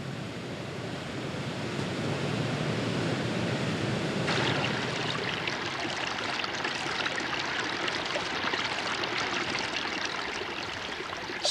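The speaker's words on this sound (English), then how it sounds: "Bridal Veil Fall is a classic example of a free-leaping waterfall." Bridal Veil Fall in Yosemite, a free-leaping waterfall dropping 620 feet into misty spray, gives off a dense, continuous roar of rushing water that swells partway through and holds steady, with no voices.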